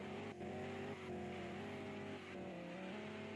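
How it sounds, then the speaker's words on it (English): A BMW M8 Competition spinning donuts in a drifting video game, its engine held at a high, steady rev with a continuous droning whine and brief dips in pitch, close and loud with no talking. "Let's do some quick donuts right here"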